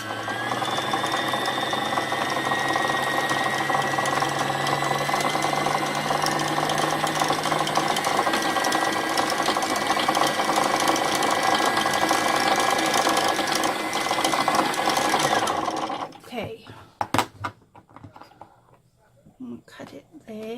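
A foot-pedal sewing machine stitching a Tilda doll runs with a loud, steady mechanical whir for about fifteen seconds, then stops, leaving a few scattered clicks and handling noises.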